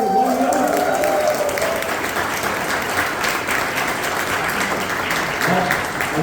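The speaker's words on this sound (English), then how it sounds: "can you have a huge round of applause for the people of the 1 year?" A large meeting audience breaks into sustained, loud applause that fills the room continuously, with some voices mixed in.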